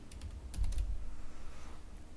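Keys are pressed on a Windows 10 computer keyboard for a shortcut combination: a quick cluster of several close, crisp clicks early on, followed by quiet room tone.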